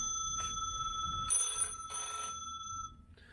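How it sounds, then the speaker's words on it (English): A telephone rings in quick repeated bursts of bright electronic trilling, fairly close, over a faint room background with no talking. "Did you just get that phone call come in?"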